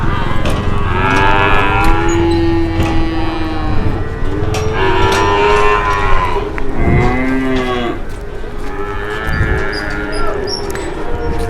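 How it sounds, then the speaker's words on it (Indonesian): An enraged cow rampaging through a crowded market bellows loudly and close, giving several long, drawn-out moos one after another above a constant background of crowd noise. "itu sapi gandengan ya"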